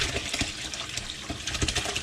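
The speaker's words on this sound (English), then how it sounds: "Don't yell at me for pouring this way down the sink right now" Whey drained from cheese curds pours down a kitchen sink through a cheesecloth-lined colander, a steady close splashing rush with a few louder gushes.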